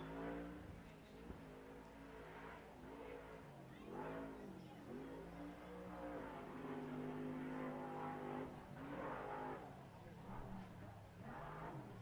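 A brand-new short course race truck engine revs and surges at a fairgrounds racetrack, rising and falling in pitch at a moderate distance under an announcer's commentary.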